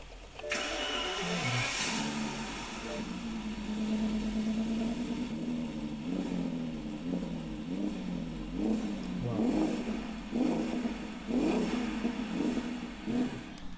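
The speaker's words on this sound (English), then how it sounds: "Tiếng bô nó gầm gớm nhỉ" A 2005 Rolls-Royce Phantom, a modified car, starts up and its exhaust roars loudly and close, with repeated revving swells and a rumbling idle between them.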